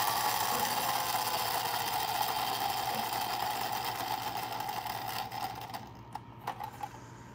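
A wind-up Dick Tracy toy squad car's clockwork motor whirs in a steady, close mechanical buzz that slowly winds down before stopping, followed by a few small clicks.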